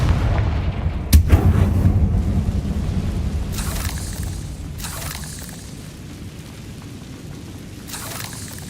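A fiery Confringo spell blasts in the Hogwarts Legacy video game, with a sharp loud boom followed by rolling rumble and several hissing bursts fading away.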